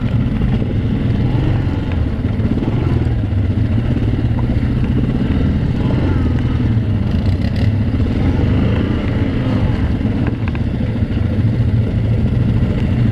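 A stock-clutched Yamaha Grizzly 700 ATV with 26-inch tires runs steadily along an unbeaten trail, its engine a loud continuous rumble with clattering drivetrain and terrain noise throughout, no voices.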